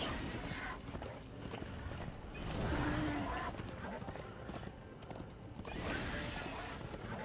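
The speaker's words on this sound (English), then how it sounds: "I can ride my horse" Hooves of a ridden horse clip-clopping across an open field in the video game Darksiders 2, a soft steady gait under ambient game sound, with a faint whinny.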